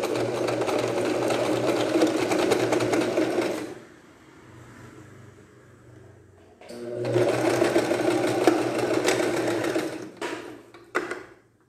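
Sewing machine stitching the cuff of a child's bomber jacket, running in two steady close bursts of rapid motor hum with a pause between, then a few short taps and stops.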